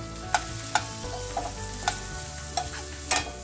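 Finely diced onions fry in a pan with dried curry leaves for a spicy Kerala shrimp chilli masala, giving a steady close sizzle broken by several sharp scraping stirs.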